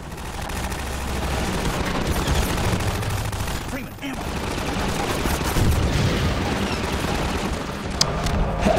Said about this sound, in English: Can I just shoot it also? Oh, fuck. More rockets here.